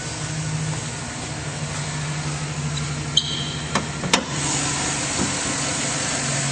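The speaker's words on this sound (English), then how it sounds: "It's running very smoothly" A 2010 Chevrolet Silverado 1500 LT Z71 4WD crew cab pickup idles with a steady, even low engine hum, broken by a few sharp clicks midway.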